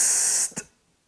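A voice imitates an open hi-hat with a sustained beatboxed 'tsss' hiss lasting about half a second, followed by a brief clipped consonant release and then quiet.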